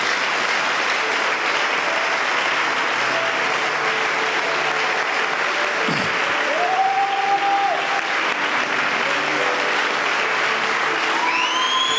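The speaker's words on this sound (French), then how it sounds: "nous acclamons pour le Seigneur." Congregation applauding steadily in a church worship service, dense continuous clapping throughout with a brief whoop or cheer near the middle and a few raised voices toward the end.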